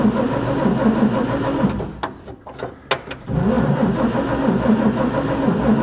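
1941 Chevy 216 engine fitted with a Carter W-1 carburetor, in cold weather: a steady rumbling engine with a brief dip and a few clicks near the middle, then a strong, close running roar, with no voices.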